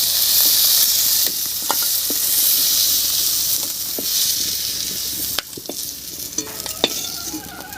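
Dried fish (shutki) frying in oil in a pan gives a loud, steady hissing sizzle with occasional utensil clicks, then the frying dies down to a quieter crackle.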